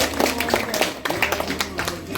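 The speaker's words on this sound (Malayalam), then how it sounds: "എല്ലാവരും ചേർന്ന് ഒരിക്കൽ കൂടി ഉഷാറായിട്ടൊരു കയ്യടി കൊടുത്തായിരുന്നു" Guests clap in a brief, lively round of applause at a family wedding anniversary celebration held in a home courtyard, the claps close and loose in rhythm.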